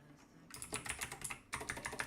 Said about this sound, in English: so I'm gonna start typing